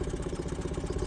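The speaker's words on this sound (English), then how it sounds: "Engine's working nicely, touch wood." A canal boat engine runs close by with a steady rhythmic chugging and light clatter, alone and fairly quiet for about a second.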